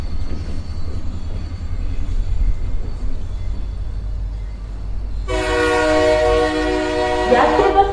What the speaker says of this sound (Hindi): CIS एक्सप्रेस अपने अगले स्टेशन गुजरात पे आ चुकी है।